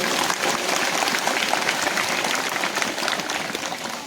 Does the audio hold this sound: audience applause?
yes